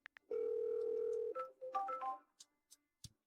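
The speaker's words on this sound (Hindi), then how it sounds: "हाँ, वह क्याओवी को फोन कर रही है।" A telephone dial tone holds steady for about a second, then breaks into a quick run of dialing key tones as a call is placed, followed by a few faint clicks in near silence.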